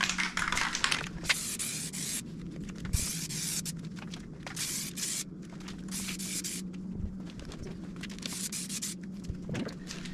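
Rust-Oleum outdoor fabric spray paint hisses from an aerosol can in a series of short, close bursts separated by brief pauses, with faint handling noises between sprays.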